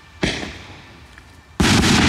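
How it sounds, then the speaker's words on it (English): A firework rocket launches with a sharp whooshing burst, then a brief lull of ambient noise before a second loud, sustained rushing blast, recorded fairly near and with no voices. "they put fire in the hand and the rocket goes up."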